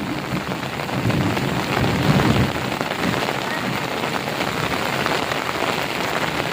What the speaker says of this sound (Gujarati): હમણાં ક્યાંક કડાકો માર્યો ને એટલો કાઢકી છે વીજળી એટલો કડાકો માર્યો એમ.